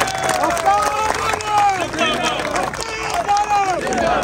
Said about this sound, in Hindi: इसके लिए तालियां बजाएं ताकि कौमों को पता चले